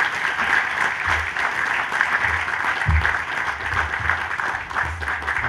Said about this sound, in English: Let's give a round of applause and let's see them right now.